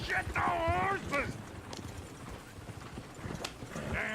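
Horses galloping in the video game Red Dead Redemption 2, a rapid clip-clop of hooves heard near and loud with a brief whinny, while voices talk over much of it.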